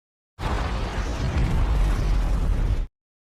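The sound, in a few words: film explosion of oil rig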